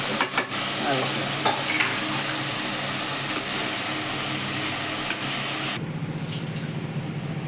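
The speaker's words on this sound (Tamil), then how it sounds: "வெங்காயம் தக்காளி நல்லா கொஞ்சம் தக்காளி வதங்கணும். குழ நல்ல அளவுக்கு வதக்கணும்." Onions and tomatoes sizzle and sauté in hot oil for a rice and lentil dish, a loud, steady frying hiss with scraping stirs near the start that drops to a softer sizzle toward the end.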